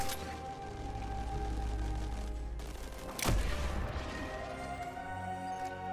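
Gunfire from a gun firing high-caliber rounds in a video game: a sustained low rumble with one loud, sharp blast midway, followed by scattered lighter reports.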